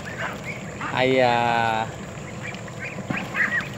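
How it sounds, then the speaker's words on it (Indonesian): Ducks on a large Muscovy duck farm in Malaysia, a clear harsh quacking call rising above a crowded background of bird sounds, with someone speaking briefly. "ini ada seribuan lebih itik ini"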